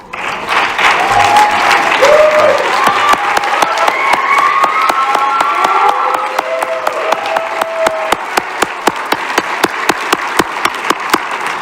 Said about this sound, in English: would you please stand and accept a round of applause?